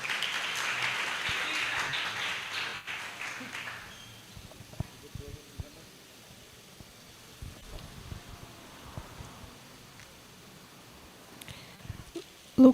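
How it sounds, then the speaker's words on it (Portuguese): A church congregation gives a brief round of applause at a Portuguese-language service, a soft burst of clapping for the first few seconds that fades into quiet room sounds with scattered small noises. "Vamos dar um aplauso ao Senhor pela vida dela."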